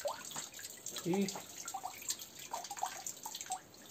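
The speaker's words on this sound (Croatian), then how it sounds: "Još je oprati od sapunice. Provlačenjem kroz vodu." A beeswax foundation sheet is drawn through water to rinse off soapy residue, making soft, scattered drips and small splashes. The sounds are faint and close, with a voice heard briefly.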